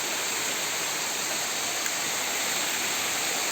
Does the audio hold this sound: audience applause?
no